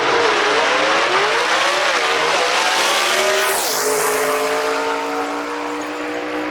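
A drag race car at a racetrack launches and accelerates hard, its loud engine roaring and climbing in pitch with a brief tire squeal, continuous and close for several seconds.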